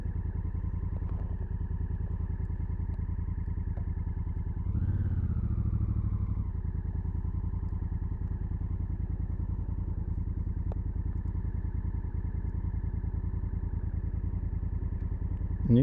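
A Honda CRF1000 Africa Twin motorcycle engine idles steadily in neutral with a low, even thrum, briefly swelling for a moment before settling back to a constant idle.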